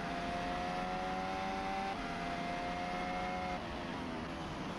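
A Formula 1 car runs off into the gravel trap during a Sprint Shootout at the Austrian circuit, heard as a distant, steady engine whine that shifts pitch partway through beneath a broad track ambience.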